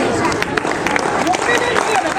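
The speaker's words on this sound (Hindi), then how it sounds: "सभी बच्चों की अभिनंदन तालियां शुरू करें।" A crowd claps for students at a school results ceremony, scattered applause blended with murmuring voices and hubbub throughout the short stretch.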